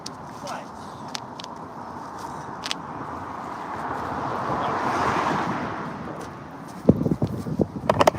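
Steady wind during an outdoor dog walk buffets the microphone with a low roar that swells and fades, broken near the end by a few sharp knocks.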